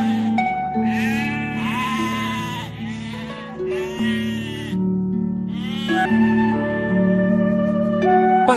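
Sheep bleat loudly and close by in a series of long, wavering cries, several overlapping calls filling the whole stretch with no talking.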